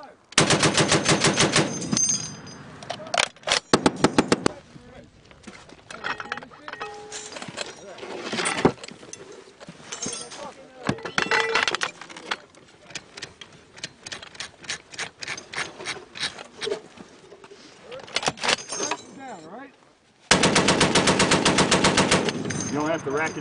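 An M2 .50 caliber machine gun fired by Marines on a range, with loud, sustained bursts of heavy automatic fire that come close to the mic and alternate with shorter stretches of shots while voices call out commands.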